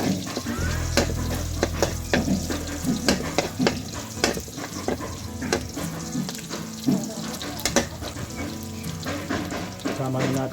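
Garlic and onion sauté in pork fat for chicken tinola, a loud, busy sizzle with constant clattering stirring and scraping of the pan, close and continuous, with a low hum underneath.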